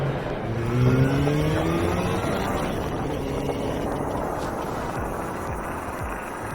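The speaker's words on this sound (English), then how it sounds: "You can actually hear the engine noise up until probably about 30-40 miles an hour." A steady motorbike engine drone runs throughout, loud and continuous, with wind rush layered over it as the bike keeps moving at speed.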